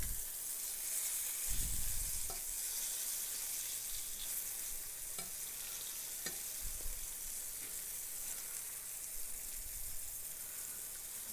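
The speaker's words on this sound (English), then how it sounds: "Just frying up nicely." Steady crackling sizzle of chicken frying in hot oil, with occasional low thumps and pops, continuous and fairly close.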